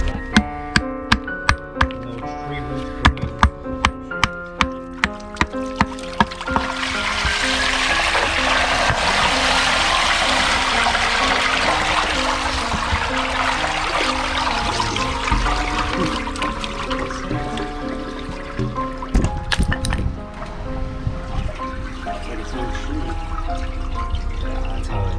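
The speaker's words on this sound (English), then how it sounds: "Try to see if we can poke a little hole in there so all the water can go out." Water gurgles and rushes steadily out of an outdoor sewer clean-out pipe. It is loud and close, with a few sharp knocks and taps at the start before the draining builds into a sustained flow.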